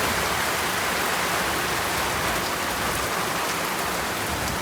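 Summer rain falls in a constant, dense hiss of drops on surfaces, loud and even throughout with no voices.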